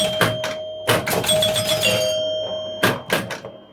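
Chimes of a 1975 Gottlieb El Dorado pinball machine ring out loud and close in three clusters of bright, rapid bell strikes, with a fading ringing tail between them and no talk.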